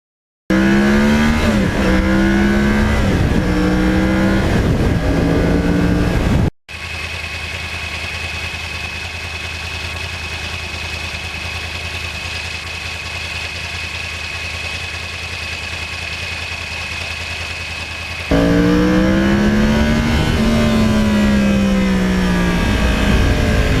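A Yamaha R1 crossplane sportbike engine revs under riding, loud and close, with rising and falling throttle sweeps at the start and end around a steadier cruising drone in the middle.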